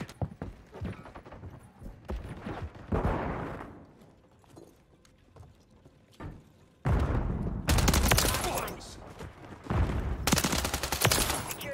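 Shotgun fire in a Call of Duty match: several loud, sharp blasts come in bursts between quieter stretches of game noise, with no talking during the shots.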